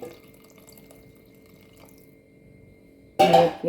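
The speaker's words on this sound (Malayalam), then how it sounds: "വെള്ളം ഒഴിച്ചു കൊടുക്കുകയാണ്" Water is poured into a cooking pot, arriving as a short, loud splash right at the end after a few seconds of near-quiet kitchen background.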